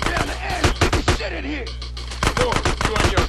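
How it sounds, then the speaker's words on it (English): Rapid AK rifle fire in GTA San Andreas, loud bursts of close shots at the start and again near the end, separated by a short lull with quieter game sound. "So I'm gonna get the AK and try to plow through the rest of them."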